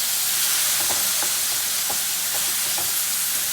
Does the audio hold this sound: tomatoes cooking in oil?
yes